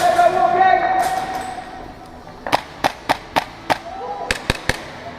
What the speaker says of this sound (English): Whoa, grenade!